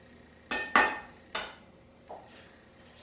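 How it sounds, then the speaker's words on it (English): A metal utensil cuts a piece of lasagna with prosciutto, Italian sausage and cream cheese and scrapes it from the pan, giving a few sharp clinks and scrapes spaced apart in a quiet kitchen. "I'm going to go ahead and cut a little piece out here so we could take a nice little bite"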